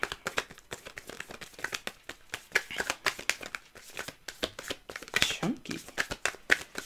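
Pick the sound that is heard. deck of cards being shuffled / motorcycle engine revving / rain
deck of cards being shuffled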